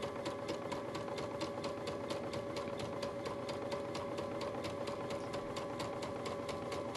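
A Brother sewing machine with the dual feed foot deactivated runs at a steady speed, its needle ticking in a fast even rhythm over a constant motor hum, close and uninterrupted.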